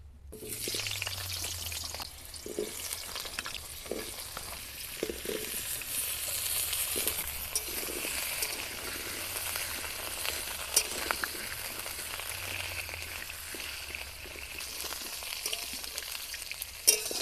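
Potato pieces for aloo dum fry in hot oil with a continuous bright sizzle. Soft knocks and scrapes of stirring recur throughout the long, even stretch.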